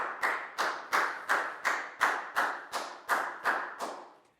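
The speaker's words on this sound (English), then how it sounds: "High five and a big round of applause for Pak Bung, please, guys." Hands clap in a steady rhythm, about eleven sharp claps spaced roughly every 0.4 seconds, each with a short decaying tail, at moderate level with no talking. The clapping is for a pupil in a Year 4 maths class.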